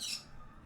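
A bird squawks once nearby in a short, bright burst at the start, fading into faint low room noise.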